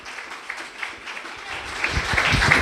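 A church congregation breaks into applause during a sermon, starting faint and sparse and then swelling into fuller, louder clapping toward the end.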